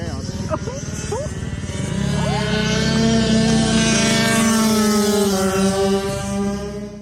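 Mini bikes of the KX65 type race around a kart track, small single-cylinder engines whining and rising in pitch as they pass nearby, with a voice talking over the engine noise.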